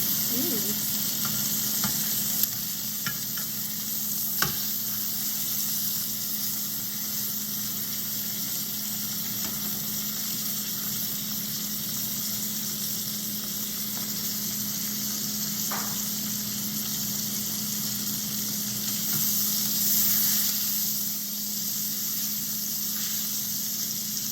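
Steak sizzles in butter in a hot frying pan: a steady, loud, crackling hiss that runs unbroken throughout, with a few faint clicks and no voices.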